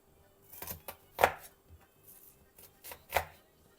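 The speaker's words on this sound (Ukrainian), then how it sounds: "Стара цибуля, вона досить тяжко ріжеться." A knife cuts through an old, tough onion on a board, giving a few sharp, separated chops with uneven pauses between them, close by and fairly loud against a quiet background, with no talk.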